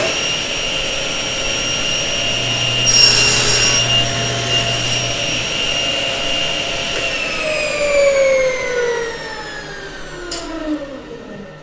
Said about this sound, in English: So now we're gonna do the cross cuts. It's gonna get a little loud